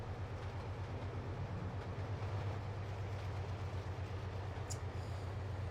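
A Class 55 diesel locomotive running in Trainz Simulator 2 on the Hawes Junction route, a steady low rumbling drone with faint rhythmic clatter, even and continuous, with a brief high squeal near the end.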